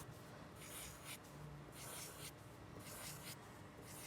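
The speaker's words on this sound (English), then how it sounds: "Since you're drawing in pencil" A pencil scratching and shading on paper during a second-grade drawing lesson, a steady soft rasp with rhythmic strokes close to the microphone.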